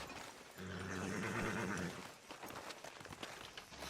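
A horse in the video game Red Dead Redemption 2 gives a loud, close neigh lasting about a second and a half, followed by softer hoof clops and shuffling noises.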